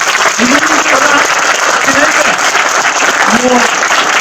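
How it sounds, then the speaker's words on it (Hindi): Loud applause from a Kargil Diwas audience honoring a Shaurya Chakra awardee, steady dense clapping with raised voices and faint tonal calls mixed in throughout. "एकदा जोरदार तालियां।"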